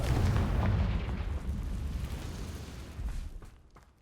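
Confringo spell blast in a wizard video game: a deep rumbling explosion with a booming low-end burst that fades out over a few seconds.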